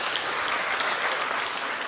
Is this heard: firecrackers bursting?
no